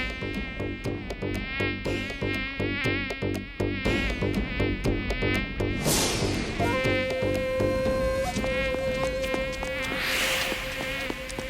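Cartoon mosquito buzzing loud and close, a steady whining drone with pulsing wingbeat rhythm that carries on alone throughout, later joined by a sustained tone.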